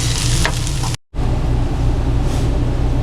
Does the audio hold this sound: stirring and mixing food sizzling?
yes